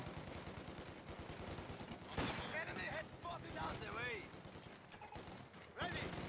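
Pioneer infantry firing in Company of Heroes 2, a busy stretch of rapid small-arms volleys and bursts, fairly quiet, mixed with other battle effects and someone talking over it.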